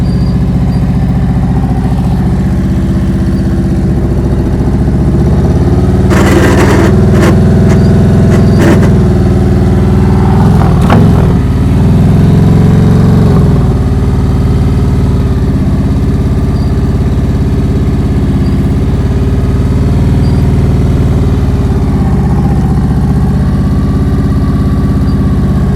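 A motorcycle engine holds a steady, loud drone under constant throttle through a slow, tight turn during advanced low-speed riding practice, with brief louder surges near the middle.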